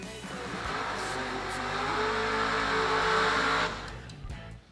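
Chevrolet Nova and Chevrolet Lumina drag race cars launching side by side at World Wide Technology Raceway, a loud sustained engine roar with a rising pitch that holds steady, then cuts off sharply near the end.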